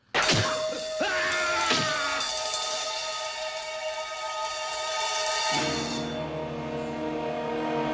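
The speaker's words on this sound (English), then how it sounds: "Even the broken glass has an interesting effect." Glass shatters loudly in a 1973 martial arts film scene, one sharp crash followed by a long ringing, tinkling cascade of shards that trails off over several seconds.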